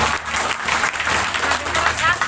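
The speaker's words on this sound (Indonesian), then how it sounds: "Kok gak tepuk tangan?" An audience at a religious sermon gathering applauds with a dense, continuous patter of clapping throughout, mixed with crowd noise.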